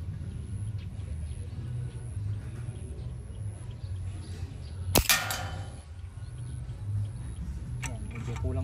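A single sharp shot from a Manlapat pistol rifle fired at a target cracks out once midway, set against steady low background rumble and someone speaking.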